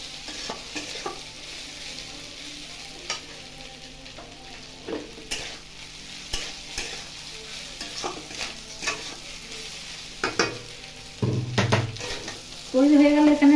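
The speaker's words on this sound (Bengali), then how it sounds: "ভালো করে এটা নেড়ে চেড়ে নেব।" Fried masala idli sizzles in a pan as a spatula stirs and scrapes it, a steady crackling fry punctuated by irregular scraping and tapping knocks, close and alone without talk.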